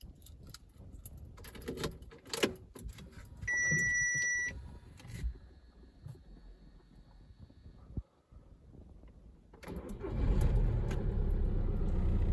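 A Volkswagen Touran with a 2.0 TDI diesel engine: keys jangle, dashboard beeps sound, then the engine cranks and catches with a brief click, settling into a loud, close, steady rumbling idle.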